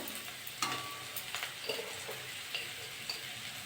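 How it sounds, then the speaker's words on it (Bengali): Bitter gourd and potatoes frying in a pan as they are stirred, a soft steady sizzle with light scraping and clicking of the spatula, close and fairly quiet. "নেড়ে চেড়ে ভেজে নিয়েছি আর আলুগুলো সিদ্ধ হয়ে গেছে"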